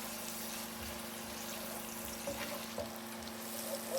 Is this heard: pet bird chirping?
no